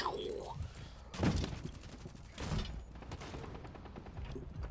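Rapid gunfire bursts and sharp shots from a Rainbow Six Siege multiplayer match, with louder volleys near 1.3 and 2.5 seconds over a steady bed of game noise.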